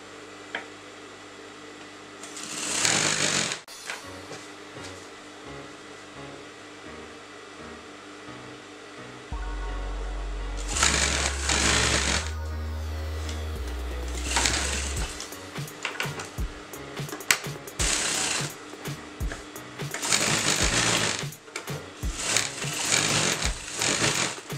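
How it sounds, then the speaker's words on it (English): A sewing machine stitches a hi-low circle skirt dress together, its motor whirring in several bursts of rapid stitching separated by pauses, loud and close with no talking. "So I'm going to sew that together."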